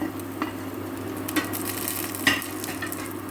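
Fried bitter gourd is stirred into a sizzling tempering of mustard seeds, chana dal, dried red chillies and curry leaves, with a soft frying hiss under a few louder scraping stirs.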